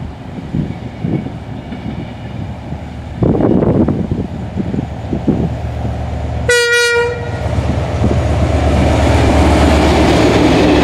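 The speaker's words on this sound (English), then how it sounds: "They are a fine class of locomotive and give a lovely sound and have full power." A Northern Ireland Railways Class 111 diesel locomotive rumbles past loudly, a sharp horn blast cutting through midway before the heavy engine roar and rattling wagons swell.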